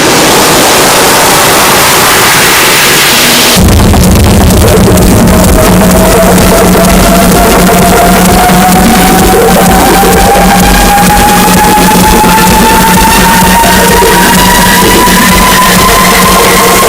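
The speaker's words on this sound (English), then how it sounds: "Can we have a loud cheer for Hiral, everybody?" Loud award-ceremony crowd cheering for a 30 Under 30 marketing award winner, a dense sustained roar of voices and applause with a steady rising tone running through it, continuing without pause.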